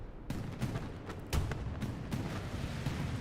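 A tank cannon fires in a World War II tank video game as a Panzer IV is destroyed. Sharp booms cut through continuous rumbling battle noise, loud and sustained throughout.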